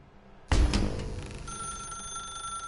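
A telephone in the video game Stanley Parable rings suddenly and loudly, a jangling bell burst that fades into a sustained ringing tone, close and with no voices.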